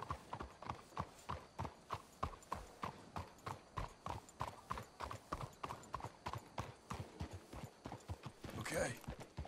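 Steady rhythmic clip-clop of horse hooves at a trot in Red Dead Redemption 2, close and continuous, with a brief whinny near the end.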